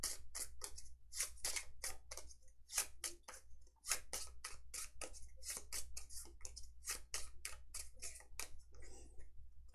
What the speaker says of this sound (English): Oh, I need to shuffle these.